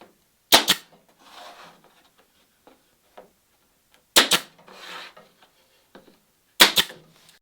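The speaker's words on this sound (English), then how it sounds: "I'm just laying this little scrap of plywood on here with a straight edge, just like so. And I'll just tack it in a few spots." A small scrap of plywood is tacked onto a wooden boat plank during construction of a Catalina Wherry, with three sharp, close, isolated strikes spaced a few seconds apart and soft handling noises in between.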